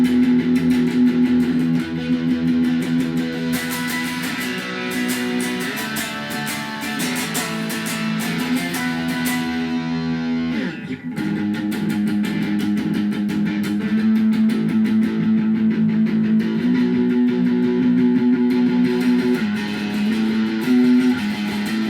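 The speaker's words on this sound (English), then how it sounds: "Showcase the middle pickup with a little bit of overdrive," Cyclone electric guitar played through the middle pickup with light overdrive from an amp, a sustained, gritty chord-and-riff passage that stays loud and continuous for the full stretch, with a brief dip near the middle.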